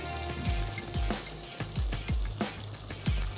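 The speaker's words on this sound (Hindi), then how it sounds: "चलिए, शैलो फ्राई किया है," Fish shallow frying in a pan of oil, a steady crackling sizzle punctuated by repeated low thumps and pops, close and moderately loud with no voices.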